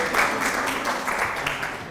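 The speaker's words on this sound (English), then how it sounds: "I wasn't expecting an applause" A conference audience at a patient talk on PRRT applauds in brief, moderately loud bursts of clapping that rise and fall over two seconds, with a voice faintly present beneath.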